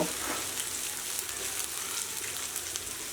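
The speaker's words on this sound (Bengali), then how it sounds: "শুকনো মরিচ আমি খুব ভালোভাবে ভেজে বাদামি করে ভাজবো" Chopped onion and dried red chillies frying in oil until browned for a Bengali beef kala bhuna, a steady, close, dense sizzle running evenly throughout with no talk over it.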